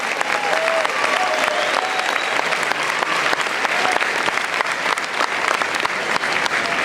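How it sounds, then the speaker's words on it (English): An audience claps steadily for students recognized at an evening honors ceremony, a dense, even applause that holds at full strength from start to finish. "Let's give a round of applause to all the students recognized tonight."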